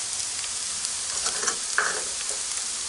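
Onions sizzle steadily in a pan while salt, red chilli and other spices are tipped in and stirred, with a few louder scraping stirs over the constant close frying hiss.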